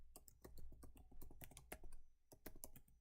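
Quick, irregular keystrokes on a computer keyboard typed by hand, close and crisp, bursts of clicks with short pauses and no talking.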